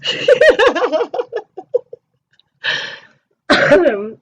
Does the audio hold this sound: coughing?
yes